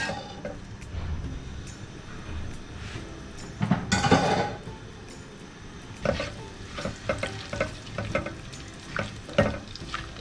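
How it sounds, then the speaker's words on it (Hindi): Whole garam masala spices, mace pieces, cloves, a cinnamon stick and star anise, sizzle in hot oil over a medium flame with close crackling and stirring clatter that swells in short bursts. "ऑयल गरम हो गया है, अब इसमें जाएंगे ये सारे गरम मसाले।"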